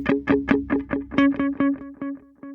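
A guitar picks a quick run of notes, each followed by echoing eighth-note delay repeats, about seven, giving a rhythmic, pulsing pattern that rings on.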